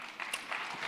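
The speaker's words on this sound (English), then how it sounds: "got a big clap there" Clapping from a conference audience at a real estate marketplace gathering in Lagos, a brief burst of steady, dense hand claps filling the room at moderate volume.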